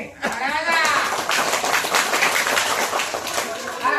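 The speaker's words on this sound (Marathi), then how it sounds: "टाळ्या वाजवत रे" A class of children claps together during a classroom quiz. A brief voice comes first, then a few seconds of dense, rapid applause.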